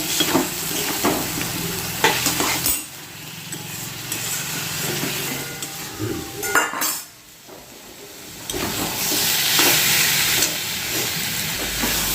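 Papaya curry frying in oil in a home kitchen pan, with a steady sizzle and hiss throughout, occasional stirring scrapes, a brief dip in the middle, then a louder sizzle toward the end.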